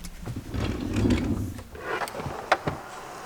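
A makeup storage drawer slides open with a short wooden rumble, followed by a couple of sharp knocks as items shift inside, close and moderately loud.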